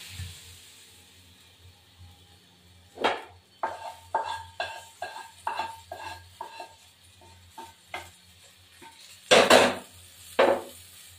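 Fried potatoes lifted out of a pan over a small kitchen hob, a run of a dozen light clinks and scrapes of a spoon against metal, ending in two louder metallic knocks.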